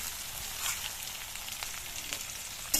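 Onion, garlic, dried chilli, bay leaf and cumin frying in hot oil for dal fry: a steady close crackling sizzle with scattered pops and a sharper spatter near the end, no talk.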